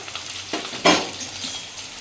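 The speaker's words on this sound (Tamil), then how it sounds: "நல்லா வதக்கி விடலாம்." Shallots and green chillies sauté in a hot pan for a banana-flower stir-fry, a soft sizzle broken by a couple of quick stirring scrapes, close and fairly quiet with no talking.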